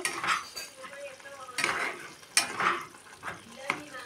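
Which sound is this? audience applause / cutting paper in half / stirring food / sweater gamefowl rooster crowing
stirring food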